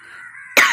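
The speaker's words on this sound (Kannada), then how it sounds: "ಇದೇ ಥರ ಕೆಮ್ಮು ಮತ್ತು ಕಫ ಬರೋದು." A single sharp, close cough bursts out loudly after a moment of faint steady background hum.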